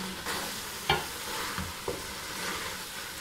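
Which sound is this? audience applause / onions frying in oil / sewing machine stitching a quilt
onions frying in oil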